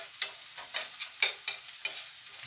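A spoon stirs curry powder through frozen jackfruit in a hot pan, making a series of about seven short scraping strokes in a loose rhythm over a faint sizzle, close and quiet with no voices.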